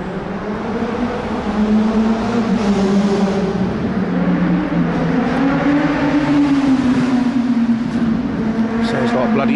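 Loud, steady roar of fast traffic racing past near a courtyard by the old route to London Bridge, engine tones rising and falling continuously like a racing circuit, with talk audible underneath.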